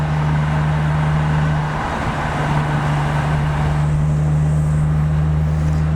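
A Nissan Skyline GTR R33 cruises slowly in fourth gear at about 30 mph among trucks: a steady, droning engine hum with road and traffic noise, constant and close, no talking.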